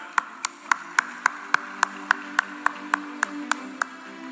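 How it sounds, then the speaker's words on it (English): An audience at the first Shanghai Cooperation Organisation Film Festival in India claps for an honoured guest, crisp, evenly spaced claps in a quick steady rhythm over a faint sustained background tone, with no speech. "Round of applause for him."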